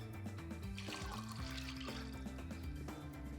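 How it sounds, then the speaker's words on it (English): Water being poured into a drain to test for a leak. A steady liquid trickle and splash runs under a loud, constant background tone throughout. "pour some water in here and see if I have a leak here"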